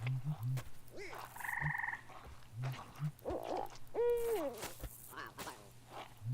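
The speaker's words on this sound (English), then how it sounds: "It's almost too many animal owl sounds." Owl hooting and croaking animal calls in a spooky outdoor video game scene, a scatter of short low hoots with a few longer warbling cries over a constant low hum, no talk.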